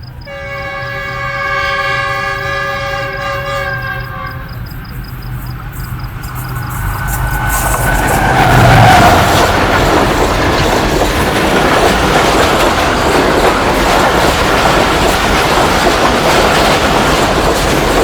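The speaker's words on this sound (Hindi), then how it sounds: "तो ये आ चुकी है जी GU40 के साथ 9053 के साथ 34 डाउन पाक बिजनेस एक्सप्रेस।" The Pak Business Express, hauled by a GU40 diesel locomotive numbered 9053, blows a long multi-tone horn, then rumbles loudly past Duniyapur railway station with a steady roar and rolling wheel clatter.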